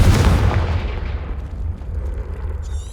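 A Confringo spell explosion in Hogwarts Legacy strikes as a single heavy boom with a broad blast, then fades away over a few seconds.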